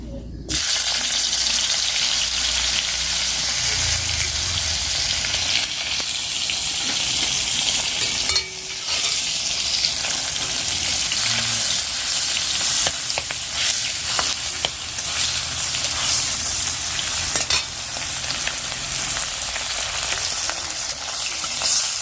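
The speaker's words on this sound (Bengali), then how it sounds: "শুটকি মাছগুলো আগে ভেজে নেব ভালো করে" Dried fish (shutki) fries in a pan with a steady, loud sizzle and crackle that runs almost unbroken, with occasional stirring scrapes and no talk.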